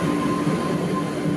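A metro train at Charbagh station in Lucknow rumbles steadily and loudly, with a constant low drone and a thin sustained whine and no break or voices over the short stretch.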